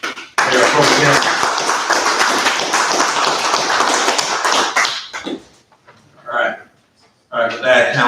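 A council meeting gallery and council members give a round of applause for the Mayor Pro Tem, a dense, steady clapping that runs loud for about five seconds and then tapers off into scattered claps and brief talk.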